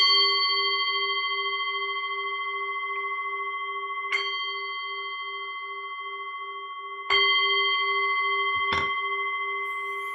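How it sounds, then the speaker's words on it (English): Meditation bell ringing with long sustained metallic tones that slowly decay, struck again several times with sharp onsets, clear and resonant in a quiet setting. "So I'll just ring the bell right now."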